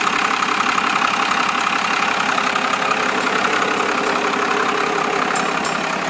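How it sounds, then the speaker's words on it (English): A Cummins 12-valve diesel engine, converted into a truck and fitted with a 4-inch to 5-inch straight exhaust, idles smoothly and steadily. It makes a continuous, close, even rumble with no change in pace. "You can see the engine runs real smooth."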